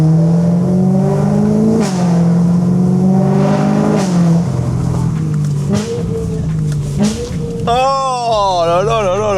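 A car engine revving hard with its exhaust valves open, loud and close, pitch rising and falling over several pulls with audible intake roar, ending in a wavering, burbling rev.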